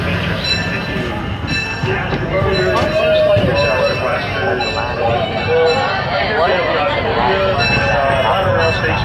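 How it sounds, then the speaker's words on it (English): Disneyland Railroad C.K. Holiday steam train pulling into the Tomorrowland station, a loud steady rolling rumble with wheel squeal, while a voice speaks over it. "As we arrive at the future Tomorrowland Station, please continue to stay fully seated until the train is fully stopped at the end of the platform."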